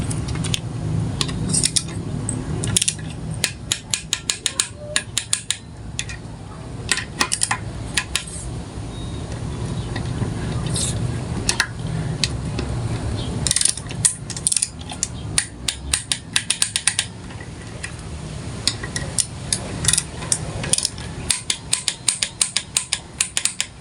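Metallic clicks and ratcheting sound as a torque wrench tightens the Allen bolts on the stator of a Yamaha Mio Sporty engine, with irregular sharp ticks, clanks and tool taps throughout and no talking.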